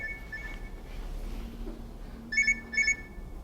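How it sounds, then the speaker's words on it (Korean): A phone alarm left ringing despite airplane mode gives two short bursts of bright electronic tones near the end, fairly clear over a quiet room hum during a lecture. "비행기 모드로 해도 이건 안 잡히는군요. 알람을."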